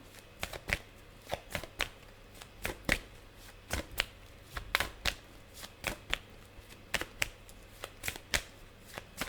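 Tarot cards shuffled and drawn from the deck, a close series of sharp riffling snaps and flicks in an uneven rhythm over a quiet background.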